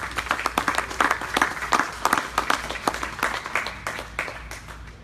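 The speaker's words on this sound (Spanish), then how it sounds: "un aplauso al Señor" A church congregation bursts into applause, a dense patter of many hands clapping at moderate distance that swells and then gradually thins over several seconds.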